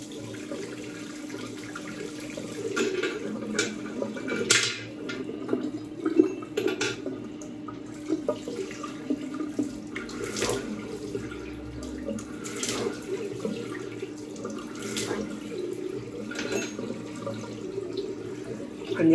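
A bathroom tap runs steadily after a shave, cold water pouring in a continuous close hiss with a few brief splashes and clatters as hands move under the stream; no one speaks.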